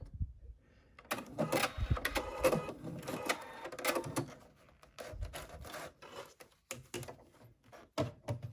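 Sewing machine back stitching on a baby's sun hat, short bursts of fast mechanical whirring broken by pauses and clicks as it stops, reverses and restarts, close and moderately loud.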